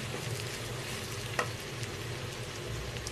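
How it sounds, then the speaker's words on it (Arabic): Chicken breasts fry in a pan while being stirred until they turn white. There is a steady close sizzle, with a light scrape of the utensil partway through. "استمر في التقليب لحد الصدور ما لونها يبيض وتدخل في السوا"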